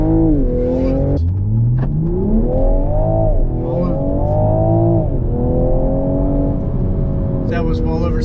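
A 2022 Toyota GR Supra with its B58 engine accelerates hard from inside the cabin, engine pitch climbing through several gears with quick drops at each shift, loud and continuous with some talk over it.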